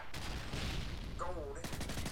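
MK14 rifle fire in Modern Warfare 3 multiplayer, a few sharp reports close together with a brief gap between them, under game noise.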